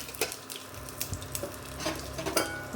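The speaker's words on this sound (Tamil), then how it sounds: "கடுகு பொரியட்டும். கடுகு பொரியுது." Mustard seeds splutter and crackle in hot oil in a pan while tempering for a South Indian dish, a dense run of small sharp pops over a steady fry hiss, close and moderately loud, with no talking.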